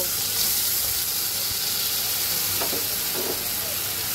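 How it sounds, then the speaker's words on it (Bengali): Spice paste for a thin tengra fish curry sautéing in a pan with a little water, a constant close hiss and sizzle with a few faint scraping stir sounds, and no talking. "মশলাটাকে সুন্দর করে কষিয়ে নেব"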